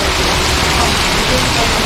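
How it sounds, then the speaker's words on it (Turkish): Rain falling in Almaty, a loud, dense, steady hiss of downpour close by with no pauses. "Almatadayız. Harika bir yağmur."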